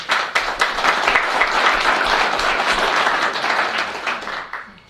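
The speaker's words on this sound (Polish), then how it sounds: "Wielkie brawa." Audience applause at an expert conference on the war in Ukraine, welcoming the next speaker: dense, steady clapping from a full room lasting almost five seconds, then tapering off abruptly at the end.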